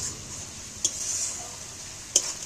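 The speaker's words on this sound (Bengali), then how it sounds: "সব মশলাগুলো এবার ভেজে নেব, নাহলে মশলাগুলো কাঁচা গন্ধ থাকবে।" Spices frying in a pan for a Bengali potol and masoor dal dish, a steady high sizzle with two brief clinks of a utensil against the pan.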